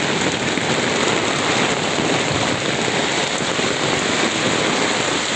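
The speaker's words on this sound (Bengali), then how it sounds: "ভাই অনেক জোরে বৃষ্টি হচ্ছে" Heavy rain pours down during a storm as a dense, unbroken roar of water, loud and steady throughout with no letup.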